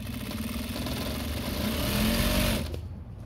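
Juki DDL-8700H industrial sewing machine stitching, a continuous close motor hum and rapid needle drone that runs steadily before cutting off near the end.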